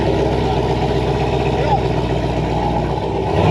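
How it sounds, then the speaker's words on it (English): A Jeep Grand Cherokee Trackhawk with a built motor and new exhaust rumbles close by in a steady, deep idle that holds loud and even throughout, with no clear start-up burst. "I got these guys wanting to hear the new exhaust, so we'll light it up for them"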